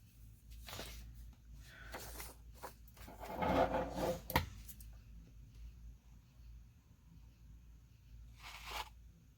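A strip comes off a craft item in a few close, soft ripping and crinkling bursts, with the loudest tearing stretch near the middle and faint handling noise around it.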